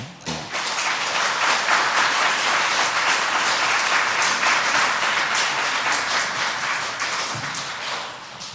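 A church audience at a youth service applauds in dense, steady clapping, sustained for several seconds before tapering off.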